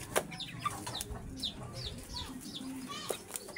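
Hens and young chicks cluck and peep nearby on a backyard farm, with short chirps repeating throughout. Someone speaks softly underneath.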